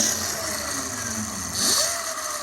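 Mototec 1500W 72V electric pit bike with a Gerardo kit: a thin high motor whine that holds steady, then rises briefly in pitch near the end, close and moderately loud.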